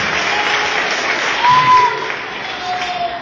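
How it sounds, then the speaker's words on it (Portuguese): A church congregation clapping joyfully during a worship service, a continuous dense roar of applause at moderate loudness, swelling briefly midway, with faint voices mixed in. "dê uma salva de palmas bem alegre, mas bem alegre mesmo, ao Senhor Jesus Cristo"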